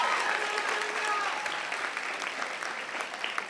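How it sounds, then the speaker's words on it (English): Convocation audience applauding, a sustained wash of clapping from a large hall, moderately distant, with a brief voice near the start. "let's give her a round of applause"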